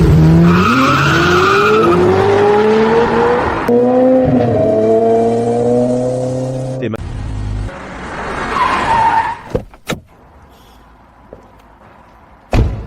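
A requisitioned Aston Martin car, freshly serviced, revs and speeds off with loud, sustained tire squeal and rising engine pitch, then fades to a few abrupt knocks and near-quiet.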